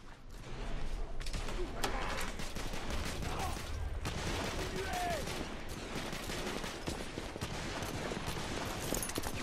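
Dense gunfire in the video game The Order: 1886 crackles almost nonstop, with bursts and rapid volleys packed together at steady loudness throughout, mixed with clatter and other game noise.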